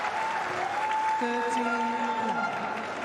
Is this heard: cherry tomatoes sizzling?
no